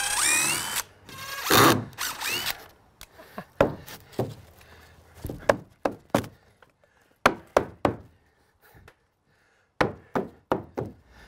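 A screw driven into a wooden blocking piece during shed construction: after a burst of handling noise, a drill fires in a rapid series of short, sharp, close bursts with brief pauses between them.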